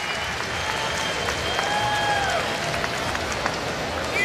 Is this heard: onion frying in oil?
no